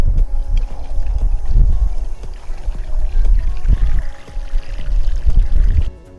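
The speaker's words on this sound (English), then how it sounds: "we're going to need to fill our balloons with water" Tap water running from an outdoor spigot into a balloon, a steady rushing, gurgling pour that continues for several seconds, close and loud, then stops abruptly.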